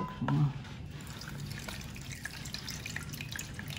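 Pandan and suji leaf water is poured through a fine strainer while making Betawi-style bubur sumsum pandan, producing a soft, steady trickle and splash that runs continuously at low volume, with a slightly louder splash near the start.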